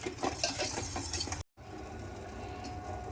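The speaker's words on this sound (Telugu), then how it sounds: "పంచదార వేసుకున్న గిన్నె పెట్టుకుని కలుపుకుంటూ ఉండాలండి" Milk with gulab jamun mix and sugar being stirred in a pot gives a steady, close scraping swish that drops out for a moment midway, then resumes softer.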